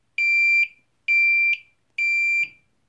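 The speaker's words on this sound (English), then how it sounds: "I've just got enough battery power to do the buzzer and the vibrator." A TOPTES CT-580 handheld carbon monoxide detector's buzzer sounds during a test, three loud, steady electronic beeps of about half a second each, evenly spaced, close and alone.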